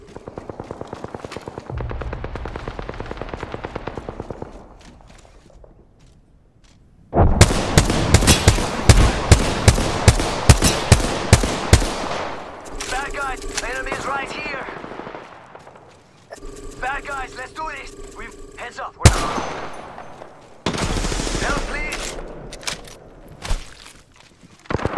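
Gunfire in Apex Legends, with bursts of rapid shots, single cracks and gaps of quieter game sound in between, close and loud, with voices speaking at times.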